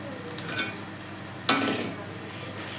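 Beetroot and potato cutlets fry in a pan with a steady sizzle, joined by a brief clatter of stirring or turning around the middle before the sizzle carries on, close by, with no talk.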